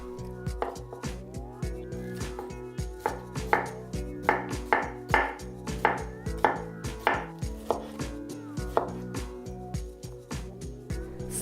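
Pineapple is sliced with a knife on a cutting board, a steady series of crisp chops and thuds repeating close and clear, no talking.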